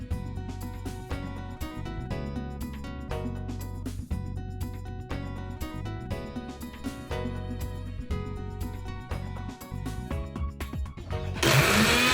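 A kitchen mixer grinder whirs loudly and continuously while grinding a green paste of coriander, mint, curry leaves, green chilli, ginger and garlic, with a brief harsher burst at the end.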